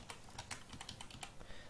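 Rapid, uneven keystrokes clatter on a computer keyboard while someone writes C++ code for a neural network's fully connected layer; about a dozen close, crisp clicks with no talking.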